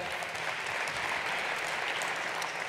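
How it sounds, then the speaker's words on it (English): A congregation in church breaks into dense, continuous applause, the many hands blending into an even roar that stays steady and fairly loud for about three seconds with no voices on top. "you can clap"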